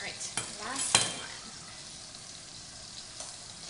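Beef pot roast searing in a hot pan, a steady sizzle with a few sharp clatters early on, close and moderately loud.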